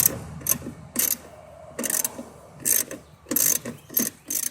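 Ratchet wrench with an 8mm socket on an extension, working fasteners on a Ford Econoline frame piece near the wiper linkage: six bursts of rapid clicking with short pauses, loud and close, no talking.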